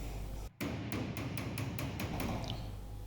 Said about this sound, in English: we're combining heating the metal up together with good old-fashioned panel beating to try and get these dints out of the car